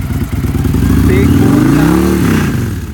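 A 2012 Victory Hammer S cruiser with a 106ci V-twin engine runs loud and close, its throbbing idle swelling slightly as someone talks over it.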